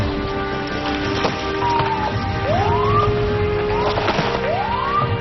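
A police siren wails in rising and falling sweeps, repeating several times over a background of traffic rumble.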